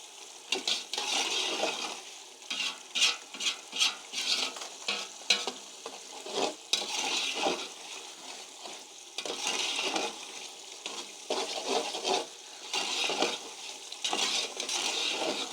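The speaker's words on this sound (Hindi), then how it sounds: "कोशिश किया करें कि चम्मच को आप चलाएं," A spoon scrapes and stirs spiced masala with peas for pulao in a pan, and a rhythmic clatter of metal on metal runs over a soft sizzle.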